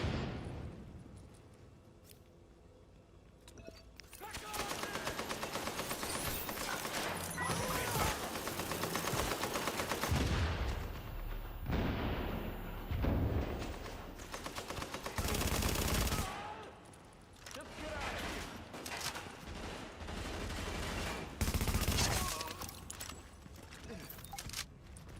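Heavy gunfire from the shooter game The Division, sustained bursts of automatic weapons fire, loud and dense with brief lulls, rattling on for most of the stretch.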